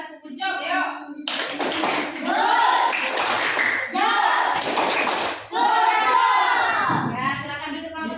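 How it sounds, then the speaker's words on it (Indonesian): A classroom of children claps together for a group, rhythmic bursts of hand claps mixed with children's voices and chanting, close and loud, with pauses between rounds. "Kita lakukan berikan tepuk good job, yuk."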